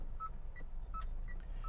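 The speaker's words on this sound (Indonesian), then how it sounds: "karena lampu sen yang kedua itu ya begini bunyinya" Turn signal ticking inside a 2014 Mitsubishi Outlander Sport, a quiet two-tone chime pattern of short, evenly spaced beeps over a low cabin hum.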